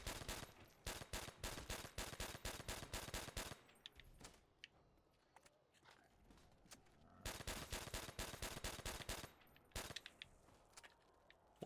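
Fast-firing automatic gun in Call of Duty: World at War zombies, two long loud bursts of rapid rhythmic shots separated by a quieter stretch of game noise.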